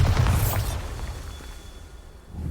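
A Bombarda explosion spell in Hogwarts Legacy bursts with a loud, bright boom at the start, then fades into a rumbling, hissing decay that trails off over a couple of seconds.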